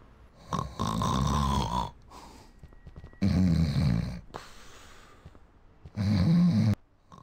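A sleeping character in the video game Scott Whiskers snores in three loud, drawn-out bursts with pauses between, heavy throaty inhales rumbling close and alone.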